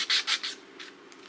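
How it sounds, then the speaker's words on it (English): Rough sandpaper rubs across a custom handle for a Damascus sashimi knife in a few quick, close, raspy strokes, then fainter lighter passes. "This is still the rough sandpaper"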